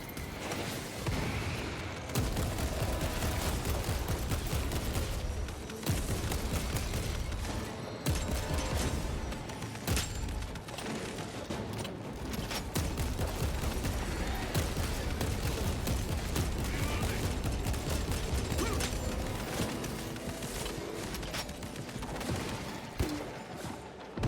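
Grenade launcher fire in Warhammer 40,000: Space Marine 2 amid dense, loud combat din, with heavy repeated blasts and low booms running almost continuously over the whole stretch, no speech.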